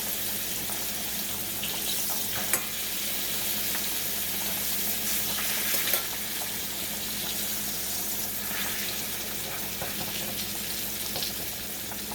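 Pork tenderloin browning in canola oil in a pan, a continuous moderate sizzle with occasional faint clinks, steady and close with no voices.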